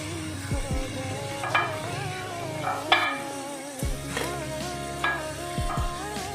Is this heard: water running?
no